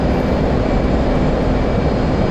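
An F/A-18 Hornet jet in the DCS flight simulator accelerates down the runway for takeoff, a loud, steady engine roar holding unbroken throughout with no talk.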